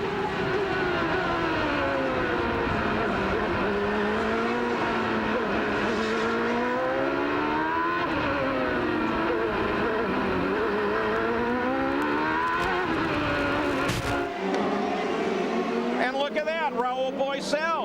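Onboard engine of a CART IndyCar race car at the 1995 Long Beach street race, shrieking and rising and falling through gear changes. Loud and continuous, with a commentator talking over it.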